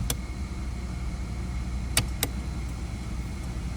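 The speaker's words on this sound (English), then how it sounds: "Engine runs nice and smooth." A 1978 Chevrolet Malibu's 305 V8 idles smoothly and steadily with a constant low rumble, broken by a few sharp clicks.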